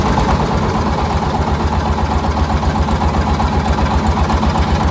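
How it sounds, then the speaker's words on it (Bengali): A trawler boat's engine runs steadily while moving slowly through a canal, a loud, close, continuous low throbbing drone with an even pulsing rhythm and no talk over it. "এই যে খালের মধ্যে ঢুকলাম ট্রলার নিয়ে"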